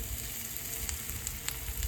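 Sesame oil sizzles steadily on a hot Blackstone griddle, a constant close frying hiss with a few brief crackles and pops rising above it.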